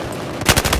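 A short, loud burst of rapid machine gun fire in the video game Battlefield 4, about five quick shots in under half a second following a low rumble.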